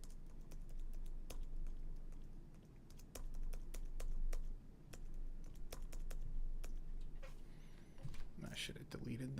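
Computer keyboard keys are tapped in a steady scatter of sharp clicks during drum-track editing, close but quiet under a constant low background hum.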